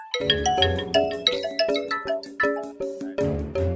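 A melodic phone ringtone plays clearly, a bright chiming tune of quick repeated notes running without pause and no voices over it.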